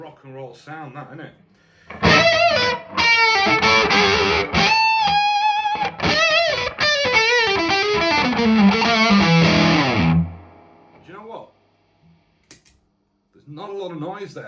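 Overdriven electric guitar through a budget AliExpress overdrive pedal plays crunchy rock riffs for about eight seconds, then rings out into near silence, with someone talking softly before and after.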